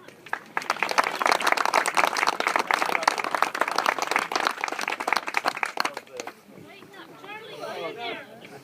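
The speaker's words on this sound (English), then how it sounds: "So these are our board members. Round of applause for them." A round of applause from an audience for a group of board members: dense, close clapping for about six seconds that then fades out, giving way to people talking.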